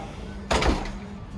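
A door swings shut with one dull thud at the entrance of a crowded restaurant in Lviv, Ukraine, heard over steady background room noise.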